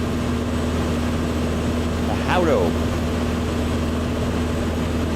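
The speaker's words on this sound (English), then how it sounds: "That is that big old generator for your external power." A large external power generator for an MH-60 helicopter in MSFS 2024 drones steadily with a low constant hum, while someone talks briefly over it.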